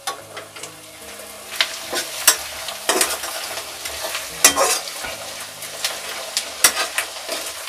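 Onions frying and being stirred in a pan for Punjabi-style sarson ka saag, with a steady sizzle and repeated sharp scrapes and clinks of a spoon against the pan, close and fairly loud.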